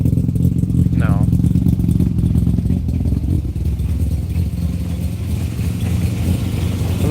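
A 1995 Mazda RX7 rotary engine runs steadily after a first winter start from sitting, a loud, rough, pulsing idle close by, with a voice speaking briefly over it.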